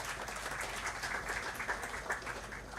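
Conference audience applauding at a startup and innovation event in India, a steady dense wash of clapping that holds evenly and fairly quietly across the whole stretch with no talk over it.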